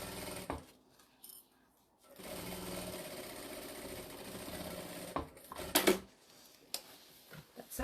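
A sewing machine back stitching a faux leather tote over the handle area, running in one steady whirring stretch, then falling quiet with a few sharp clicks and handling knocks.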